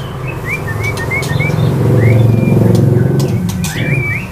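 A Murai Medan magpie-robin sings close by in a string of bright rising whistled phrases, over a constant low hum and background noise.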